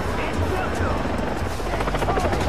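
A helicopter in the video game Far Cry 3 thrums loudly and continuously, with a steady rotor chop close by and a person speaking over it.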